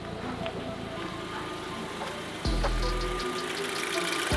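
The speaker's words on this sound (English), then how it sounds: "And the engine runs completely fine." A Mk5 Golf GTI engine idles steadily with a low, even rumble after repair, no smoke, its tone shifting slightly partway through as it keeps running.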